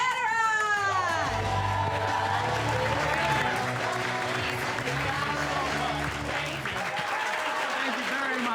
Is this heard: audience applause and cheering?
yes